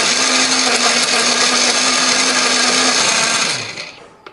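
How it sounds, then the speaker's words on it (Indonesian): An electric blender grinds chili, bird's eye chili, turmeric and coriander with a little water into paste, a loud, steady whirring roar for about three and a half seconds that winds down and stops. "beri sedikit air supaya nanti lebih gampang untuk menghaluskannya"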